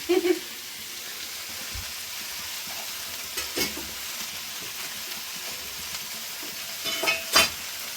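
Chowmein with vegetables fries in a pan with a steady sizzle, joined by brief clinks of utensils stirring and scraping at intervals.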